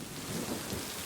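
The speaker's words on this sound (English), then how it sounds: "the rain is so loud." Steady, dense video-game rain hissing loudly and continuously, with a low rumbling underneath and no voices.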